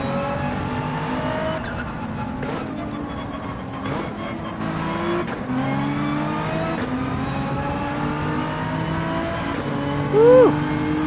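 Race car engine in the Gran Turismo 7 video game, droning steadily with rising and falling revs through gear shifts, tire squeal and skidding mixed in, loud and continuous throughout.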